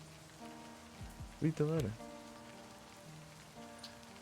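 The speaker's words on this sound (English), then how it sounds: "The raindrops fall on the paper, landing with soft patters." Steady soft rain patters faintly throughout a scene in the visual novel game LIVBER: Smoke and Mirrors, with a voice briefly speaking over it.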